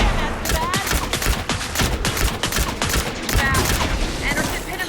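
Rapid gunfire rattles in the video game Alan Wake 2, a loud, dense fusillade of overlapping shots and bursts running throughout, with faint voices mixed in.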